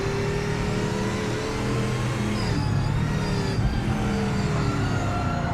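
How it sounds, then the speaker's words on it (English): Two race cars collide in the Project Motor Racing video game, Daytona and Jaguar GT icons, heard as a loud sustained engine drone with shifting tones and a brief harsher scrape midway, no voices. "Sounds like an expensive accident, crashing these 2 cars together."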